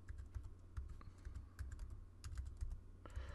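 A server IP address typed on a Mac computer keyboard: a quick run of close, crisp key clicks at an uneven pace over a low hum.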